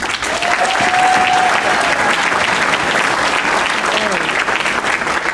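Steady, full applause from a luncheon audience for performers at an Air Force base heritage event, even and continuous, with faint voices carrying over the clapping.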